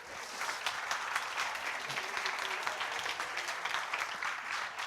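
A conference audience at a Vue.js developer event applauds itself, sustained crowd clapping heard from within the room at moderate volume.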